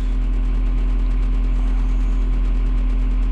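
John Deere 6620 tractor running, its engine giving a steady, loud, low mechanical drone with a constant pitch and no voices over it.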